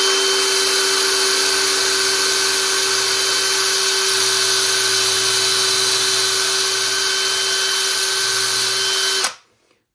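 A power drill spinning a Tamiya RC touring car wheel for cleaning whirs steadily at high speed for several seconds, loud and close, then cuts off abruptly near the end.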